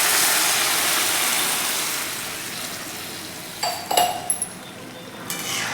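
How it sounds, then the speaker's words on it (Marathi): Water poured into hot roasted vermicelli in a pan: a loud hissing rush that slowly fades, then a few sharp clinks of utensil against the pan near the end, with no talk. "आता आपण त्यामध्ये पाणी घालून घ्यायचं आहे"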